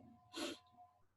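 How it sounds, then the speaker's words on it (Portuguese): A single sharp human sneeze bursts out up close during a classroom geography lesson, a brief breathy explosion over a quiet room background. "como é bom espirrar"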